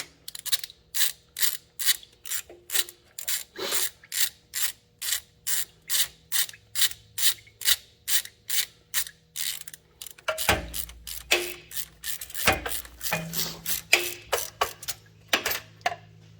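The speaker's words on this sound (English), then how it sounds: "now I'll take the rocker shaft off. 3/4 inch deep socket." Ratchet with a 3/4 inch deep socket backing rusty rocker shaft bolts off a 1940 John Deere B tractor: a long, even train of crisp clicks up close, then a few heavier metallic clanks and scrapes.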